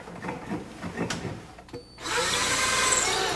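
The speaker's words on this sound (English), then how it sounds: "Drill through the cabinet and tighten the connecting screws." A few knocks and handling sounds, then a power drill whirs loudly and steadily, close up, as it bores through a wooden IKEA kitchen cabinet.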